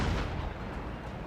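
Cannon fire from warships in a Total War naval battle set in Russia, a dense continuous roar of loud booming blasts that blur together through the whole short moment, with no talk.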